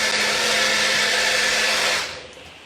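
A blender whizzes homemade mayonnaise in a home kitchen, a loud steady motor whine for about two seconds that then cuts off and fades away.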